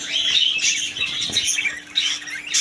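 Lovebirds and other colourful caged birds in a bird shop keep up a dense, continuous chorus of shrill chirps and squawks, close and busy, with no talk over it.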